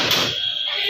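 One loud, harsh electronic buzz from a quiz game show buzzer in a Tumpak o Sablay contest, under a second long and heard alone.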